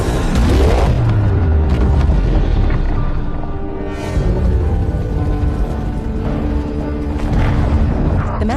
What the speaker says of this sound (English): The explosion happens in an instant.